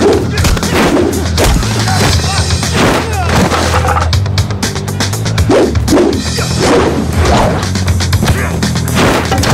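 Gunfire in a Chinese drama film fight scene where thugs are confronting the heroes, with loud sharp repeated bangs and booms in rapid bursts over a low rumbling backdrop.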